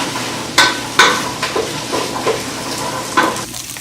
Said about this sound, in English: Just gonna dump the chickpeas in there. And I'm stirring it around a bit.